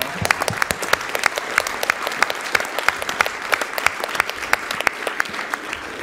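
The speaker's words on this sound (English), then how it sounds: "applause" Steady applause from a crowd at a charity speedrun marathon event, a continuous patter of many clapping hands without voices.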